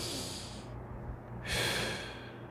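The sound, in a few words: demonstration of ordinary breathing, inhaling and exhaling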